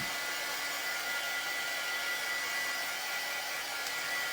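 A hair dryer blows steadily while drying a transfer, a close, constant whooshing hum with a faint whine, unbroken and alone for several seconds.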